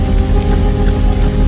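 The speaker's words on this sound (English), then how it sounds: "It's 44 degrees and it's nice and rainy outside." Rain falls outside on a 44-degree day as a dense, steady, loud hiss with a low hum beneath, with no voices.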